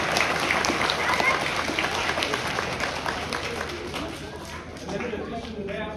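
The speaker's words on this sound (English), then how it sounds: "Give that a clap." Applause from an audience at a school principal-of-the-year ceremony, a dense patter that holds fairly even and fades slightly toward the end, with some talk mixed in.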